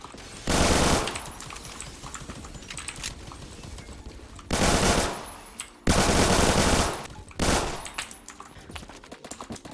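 G18C pistol firing full auto in the Roblox game Phantom Forces: four loud, rapid bursts of gunfire, each about half a second to a second long, separated by quieter in-game background noise.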